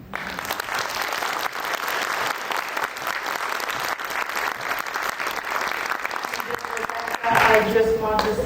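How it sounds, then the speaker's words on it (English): Sustained audience applause fills the room at a museum event honouring a woman, steady and dense throughout, with voices mixed in and a brief louder swell near the end. "give this incredible woman a round of applause"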